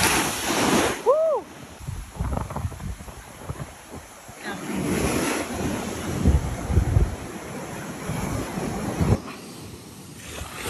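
Ocean surf breaks and washes along a beach during surf fishing, a rolling roar that swells and fades, with heavy wind buffeting the microphone and people talking now and then.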